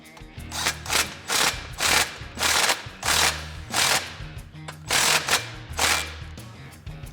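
A ratchet snugs an exhaust clamp on a 2017-2022 Ford Super Duty 6.2L during an MBRP 4-inch exhaust install. About nine rapid clicking bursts repeat in an even rhythm, close and clear.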